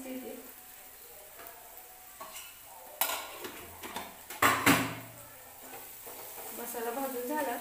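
Spiced masala with a pinch of asafoetida frying in a pan for puri bhaji potato curry, a soft steady sizzle broken by scraping stir strokes and a few louder clinks of the spoon against the pan.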